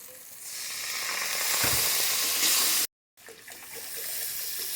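Water poured into prawns frying with poppy seed paste gives a loud, broad hissing sizzle that swells, cuts out for a moment, then resumes steadily; no one speaks.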